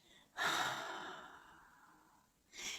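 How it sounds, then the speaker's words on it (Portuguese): A long, deep exhalation during a breathing exercise, a close breathy rush of air that fades gradually over about two seconds, followed by the start of another breath. "Você vai fazendo essa respiração profunda"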